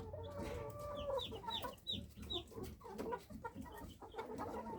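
Small chickens cheep in a repeated series of high, rising peeps over soft clucking and rustling nearby; one chick is sick.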